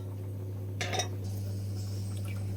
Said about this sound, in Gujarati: કુકર બંધ કરી દઈશું